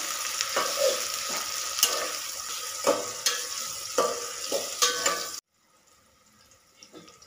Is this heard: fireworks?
no